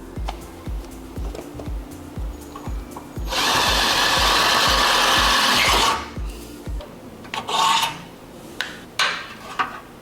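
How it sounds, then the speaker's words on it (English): A power drill with a 5/16 bit bores through a car's bumper mounting point for a splitter install for a few seconds between rhythmic ticking and scraping, followed by short bursts of drilling. "5/16 drill bit and we're going to drill out this hole"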